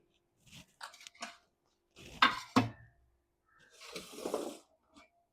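Pots and dishes are handled and put away in a home kitchen, making several short clattering bursts of metal and crockery with quiet pauses between them.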